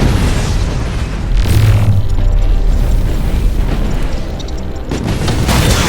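Nova Cannon blast in the Battlefleet Gothic Armada space game: a loud, sustained rumbling boom swelling partway through, heavy low roar over dense noisy background, no talk.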